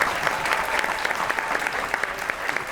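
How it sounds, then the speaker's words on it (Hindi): Studio audience applause during a Pakistani television talk show, steady dense clapping that fills the whole stretch at an even, moderately loud level with no voices over it. "और तालियां"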